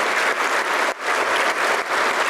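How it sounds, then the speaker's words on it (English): Conference audience applauding after a panel discussion with a U.S. senator, a dense, loud wash of clapping from many hands sustained through the moment with brief dips. "How about a big round of applause?"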